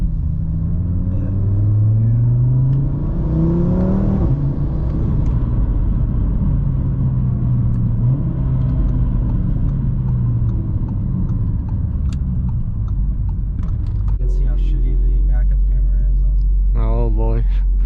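A 600 wheel-horsepower turbocharged Audi RS3 pulls hard, its engine note climbing loudly through rising gears with a deep, heavy rumble throughout and a short stretch of speech near the end.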